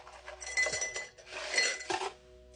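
Ice cubes dropped into a glass while mixing a rum cocktail, several bright clinks and rattles in quick bursts, close and clear with no talk.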